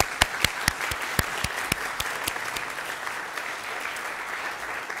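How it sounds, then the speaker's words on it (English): An audience applauds the Rockville Council candidates after a 2015 election debate, with a few sharp individual claps standing out over a steady wash of clapping throughout. "Let's give all of them a round of applause now."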